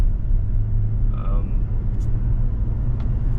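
Engine of a manual Toyota Tacoma truck idling and running, a low steady rumble from close by with brief faint tones over it, while someone talks across most of it.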